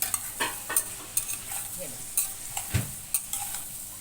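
Aloo gobi with chili powder is stirred in a pan, with a series of rhythmic scraping strokes over a soft, constant sizzle, heard up close.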